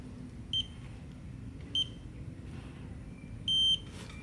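A Cybertruck console safe's fingerprint reader chirps during finger registration: short high electronic beeps at spaced intervals, the last one longer, over a low steady background hum.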